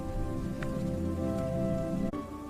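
Rain falls steadily, a dense continuous patter on a surface, with a sharp knock near the end.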